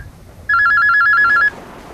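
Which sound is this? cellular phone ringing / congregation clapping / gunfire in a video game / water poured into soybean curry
cellular phone ringing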